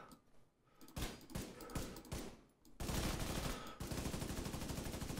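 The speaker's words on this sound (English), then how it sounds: "Right, yeah, it's just shooting." Gunfire in The Division 2 comes first as several sharp separate shots, then turns into dense, continuous automatic bursts that fill the second half at a steady, fairly close level.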